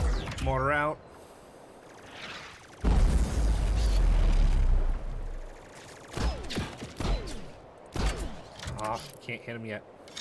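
Mortar fire and explosions in the tower defense game Taur, a heavy booming blast that rumbles for about two seconds, followed by smaller bursts, with someone talking between and over them.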